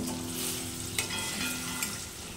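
Paneer pieces fry lightly in hot oil with a continuous soft sizzle and crackle, and two brief utensil clicks. It sounds close and quiet, with no voices.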